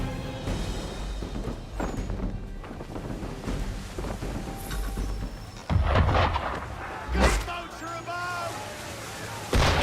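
Cannon fire at a ship in Assassin's Creed III, heavy booms and blasts rising over a rumbling sea-and-weather backdrop, with voices speaking throughout.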